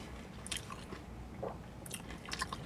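Crunchy bites and chewing of a Taco Bell Crunchwrap Slider loaded with chips, several crisp crunches spaced across a couple of seconds, close and fairly quiet with no talking.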